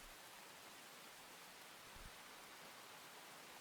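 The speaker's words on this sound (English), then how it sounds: "Nice way to end with the sound of the rain." Steady, faint hiss of rain falls evenly throughout as ambient sound in the Aokana visual novel, with no voices over it.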